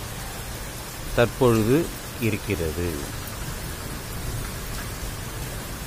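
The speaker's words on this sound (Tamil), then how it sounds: "சிறிய தூறலாக ஆரம்பித்த இந்த மழை சற்று கனமான மழையாக" Heavy rain falls steadily, a continuous soft hiss running underneath a man's brief speech and carrying on alone afterward.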